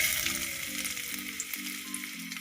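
Chopped coconut frying in ghee for broken-wheat payasam gives a close, steady crackling sizzle that holds evenly throughout over a faint background hum.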